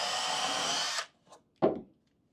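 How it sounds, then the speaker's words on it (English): A small 12-volt driver whirs steadily for about a second as it drives a screw into wooden deck steps, then cuts off, followed by a brief faint spin and one sharp knock, close and alone. "So rather than my big 18-volt impact, I'm using a little 12-volt driver."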